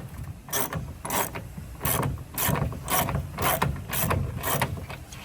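A ratchet wrench clicks steadily as it loosens a 3/4 inch nylock nut on a boat's rotary steering shaft, with about eight close, crisp bursts of rapid pawl clicking in an even back-and-forth rhythm.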